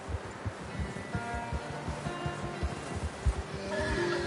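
A horse whinnies in a PS4 video game, a faint neigh set among soft rustling and occasional hoof-like thuds, with the whole scene quiet and somewhat distant.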